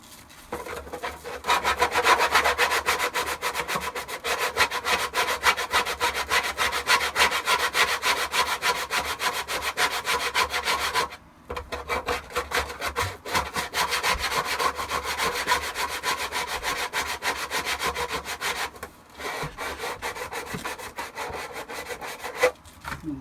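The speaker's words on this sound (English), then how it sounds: "I'll start going over with some sandpaper" Sandpaper rubbed by hand along the return edge of a Shadow Trooper armor part, rounding off coarse edges, makes a steady, close scratching stroke sound that runs continuously for about twenty seconds, with two brief pauses and no talking.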